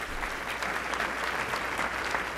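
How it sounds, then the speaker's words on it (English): Crowd at the Tampa Downtown Partnership's 25th anniversary celebration gives a round of applause, continuous, dense clapping with a low hum underneath, close and steady throughout. "that deserves a round of applause"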